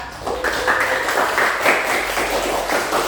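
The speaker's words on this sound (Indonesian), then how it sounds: "itu dia semua tepuk tangannya untuk tim merah" A class of students applauds the red team after a rope activity, a steady wash of many hands clapping together, fairly close and sustained for a few seconds with little talking.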